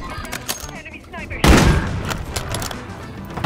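Gunfire in a first-person shooter game: quick clicks and light shots, then a sudden loud burst of rapid fire through a wall that continues in sharp cracks, with a voice speaking over it.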